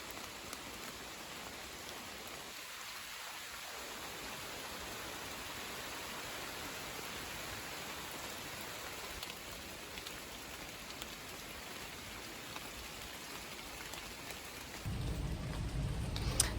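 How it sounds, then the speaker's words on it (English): Steady rain patters through a woodland canopy, a dense, even hiss of drops on leaves that holds for the whole stretch, swelling briefly louder near the end. "Walking in rain under a woodland canopy is another wild thrill of mine."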